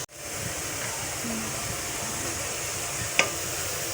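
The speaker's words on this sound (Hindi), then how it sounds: "हम प्याज को हल्का सा लाइट ब्राउन करेंगे।" Onions sizzling in oil as they fry until light brown: a steady hissing crackle throughout, close and even, with a single brief clink near the end and no speech.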